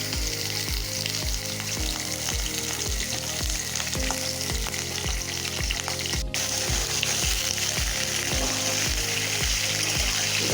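Chicken pieces fry in hot oil with whole cumin seeds, giving a loud, steady sizzle with a regular pulse of stirring or scraping against the pan throughout.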